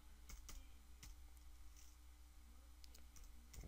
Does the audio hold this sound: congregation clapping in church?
no